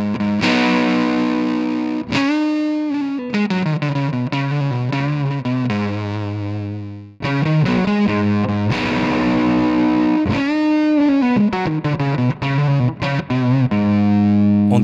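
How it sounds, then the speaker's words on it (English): An electric guitar runs through a Fuzz Face fuzz pedal, producing thick, saturated, buzzy chords and riffs. It plays loud and continuous with sustained notes and bending slides, and there is no speech. "The higher you set the volume control, the fuller the sound becomes"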